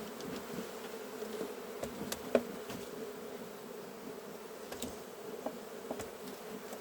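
Honey bees buzz around opened hive boxes being readied for cold weather, a soft, dense swarm hum with occasional brief louder passes close by.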